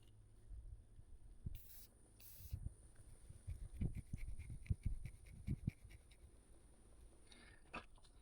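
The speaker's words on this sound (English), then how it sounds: "Old rattle can special, just a little Tractor Supply, tractor implement paint from Valspar." Several short hissing bursts come from a rattle can of Valspar tractor implement spray paint, followed by a run of quiet ticks and taps, with faint breathy pauses between sprays.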